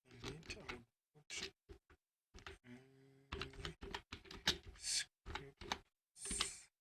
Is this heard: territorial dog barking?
no